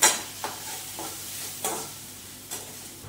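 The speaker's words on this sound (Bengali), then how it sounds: "এবার এটাকে ভালো করে কষে নেব।" Spice paste stir-frying in a pan for Mughlai dal, a low sizzle with several distinct scraping stirs of a spatula, close and fairly soft, no voices.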